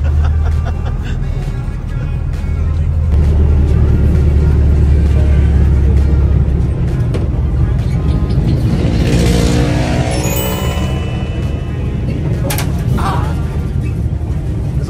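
A jeepney's engine runs steadily throughout a morning ride near Tagaytay, with a deep low rumble that holds loud and constant while voices talk and chatter over it.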